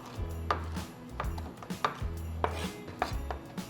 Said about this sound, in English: we're gonna chop up all the tentacles